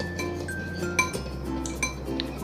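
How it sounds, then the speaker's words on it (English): An egg whisked in a bowl for buttermilk cornbread batter, with rapid light clinks of the utensil against the bowl and a few sharper taps, close and steady with no talking. "Now I'm just gonna go ahead and whisk this egg up."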